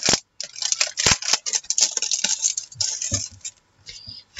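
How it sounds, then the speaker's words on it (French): Crinkly, irregular rustling of paper close by, with sharp crackles and soft shuffles running almost continuously with brief pauses. "désolé pour le bruit encore de papier"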